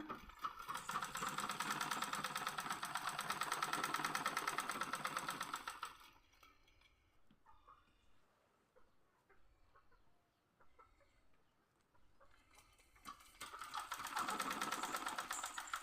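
A sewing machine stitches simple Hmong trousers in two loud, fast, steady runs of rapid mechanical stitching, close by, with a quieter stretch of faint handling noise between them and no speech.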